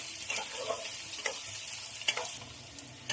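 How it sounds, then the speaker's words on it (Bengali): Sliced onions sizzle and fry in oil with whole garam masala, mace and bay leaves in a kadai. A spoon scrapes and stirs at intervals over a quiet, steady hiss. "পেঁয়াজটা দিয়ে ভাজার জন্য খুব ভালো করে নেড়ে দেবো।"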